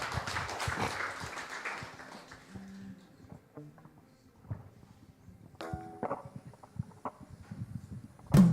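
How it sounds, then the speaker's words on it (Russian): A church congregation at a Sunday service applauds, the clapping loudest at the start and tapering off, followed by sparse claps, a few taps and faint instrument tones as music begins. "Давайте Господу аплодисменты дадим"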